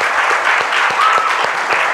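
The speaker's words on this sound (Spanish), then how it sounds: "Vamos más una vez a aplaudir al Señor Jesús." A church congregation in Shonan, Japan applauds loudly and steadily, with dense, close hand claps that continue throughout the moment.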